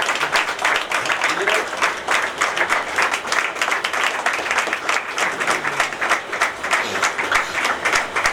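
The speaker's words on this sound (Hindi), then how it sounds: "तालियां, जोरदार तालियां होता है हमारे विक्रम भैया के लिए।" Loud, dense applause fills a Ram Katha gathering during a Gayatri Mahayagya Anushthan, a sustained wash of many hands clapping close by with no pause throughout.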